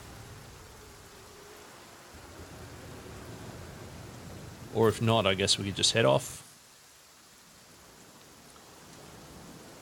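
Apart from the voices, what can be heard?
rain in a video game (The Flame in the Flood)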